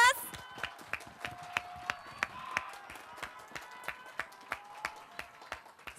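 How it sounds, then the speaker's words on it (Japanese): Sparse, evenly spaced claps ring out at the award ceremony for the 77th Japan Championship Keirin final, faint and slightly distant, with a voice talking over them. "皆様今一度大きな拍手をお願いします"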